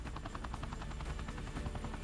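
Rescue helicopter hovering with a steady, loud rotor chop and engine roar, continuous and close throughout with no voices.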